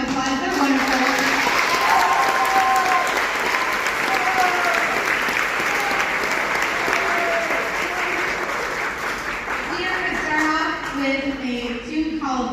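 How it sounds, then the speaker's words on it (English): Audience applause for a school band at a spring concert: sustained, full clapping that runs throughout, with scattered voices calling out and rising near the end. "So let's give them a round of applause."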